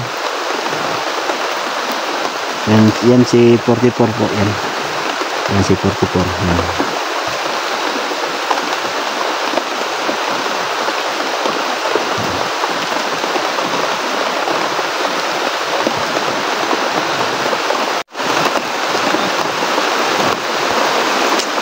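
Steady broadband hiss of rain falling throughout, with a person speaking briefly over it early on.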